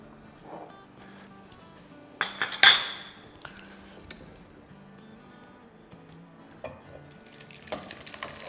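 Restaurant-style chicken soup with egg is ladled out of a pot, a quiet background of stirring with a couple of sharp metallic clinks and scattered lighter clatters.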